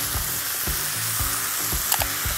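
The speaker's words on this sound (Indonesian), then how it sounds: "Kita aduk." Squid frying with spices in a pan, stirred in steady strokes under a continuous close sizzle, with periodic scraping pulses about every half second and one brief sharper clink near the end.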